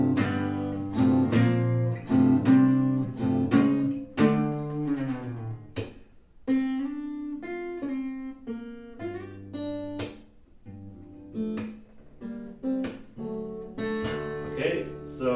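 Acoustic guitar playing the intro of a song, a plucked melody line over ringing chords at a moderate, steady pace, heard clearly and alone.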